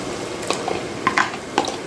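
A spoon stirs whisked yogurt into a sizzling masala gravy for handi kabab, with soft scraping taps against the pot over a steady frying hiss.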